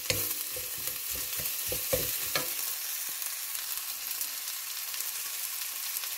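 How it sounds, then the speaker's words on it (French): Onions are sautéed in a pan for a veal-tail and shrimp fricassée, with a few quick stirring scrapes at first, then a steady, soft sizzle carrying on alone. "Et je continue de faire revenir mes oignons"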